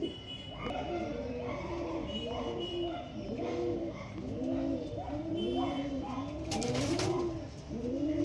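Andhra breed pigeons coo in a repeated, rolling rhythm, several birds close by, with a brief rustle of wings near the end.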